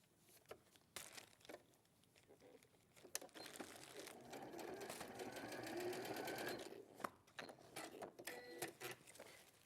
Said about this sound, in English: I'm gonna just sew the sleeve,